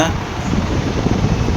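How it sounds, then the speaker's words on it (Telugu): A steady whirring fan drones close by, a constant airy hum with no pauses. "ఆ ఫ్యాన్ సౌండ్ సుడిగల్లా వస్తుంది"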